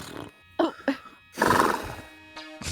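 A voice imitates horse noises, giving a few short whinny-like bursts followed by a longer, rougher neigh, close and fairly loud with brief pauses between.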